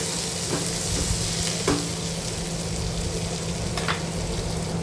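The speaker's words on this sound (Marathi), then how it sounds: "त्याचा कलर चेंज होईपर्यंत कांद्याचा व्यवस्थित परतून घ्यायचा आहे" Onions frying in a pan until they change colour, a continuous even sizzle with a few stirring clicks and scrapes, close and without talk.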